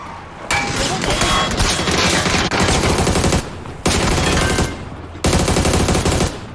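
Gunfire in PUBG on the Vikendi map: loud, sustained automatic bursts with brief gaps, close and dominant throughout.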